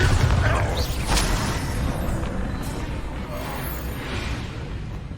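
A Bombarda spell explodes in Hogwarts Legacy, opening with a loud, broad booming blast that fades into a rolling rumble and scattered debris-like crackle.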